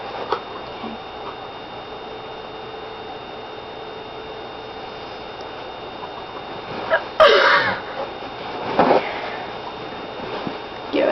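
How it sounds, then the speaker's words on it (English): A person sneezes after sniffing laundry detergent held to the nose, one sharp sneeze partway through, then a smaller burst, over a steady electrical hum and quiet room tone. "putting it next to our nose, and making ourselves sneeze"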